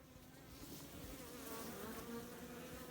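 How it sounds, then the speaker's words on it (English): Bees hum in a steady, dense drone around a small nucleus hive, a continuous close buzz with no voices over it. "The bees are not very happy."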